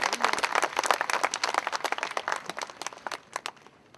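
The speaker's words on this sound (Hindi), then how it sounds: "एक बार जोरदार तालियों के साथ इन सब साथियों का स्वागत करते हैं।" Crowd at a political rally in Farrukhabad breaks into loud, dense clapping that swells, then thins out and tapers toward the end.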